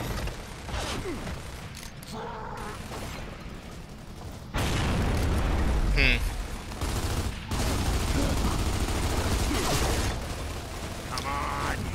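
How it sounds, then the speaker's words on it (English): Gears of War 2 combat: bursts of gunfire and a heavy grenade blast land over mechanical clanks and creaks, with a loud boom midway followed by continued rumbling battle noise. "Toss a grenade."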